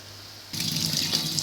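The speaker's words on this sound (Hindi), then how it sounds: "उस तरह से पानी से मैं वॉश कर लूँगी।" Running tap water gushes suddenly into a sink as roasted eggplant is rinsed under it in a home kitchen, a steady close splashing flow after a quiet start.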